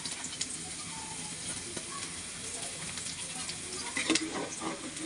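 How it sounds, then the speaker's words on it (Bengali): Onions sizzle in hot oil for tempering dal, a soft steady frying crackle with occasional stirring scrapes and a louder burst near the end, no talking. "এই পেঁয়াজ এবং তেলটা দিয়ে ডালটা ফোড়ন দিব"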